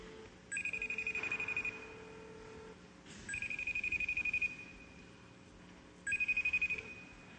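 A VoIP call from a Cisco phone to an IceWarp WebRTC client rings in three separate electronic ring bursts, each about a second long with short gaps between them. The ringing is clear and moderately loud over a faint background hum, with no talking.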